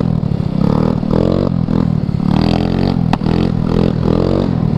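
A fast electric-style scooter holds a wheelie up a parking garage ramp, its motor whining loudly with rising, wavering pitch and clattering from the deck, close and continuous with no talking.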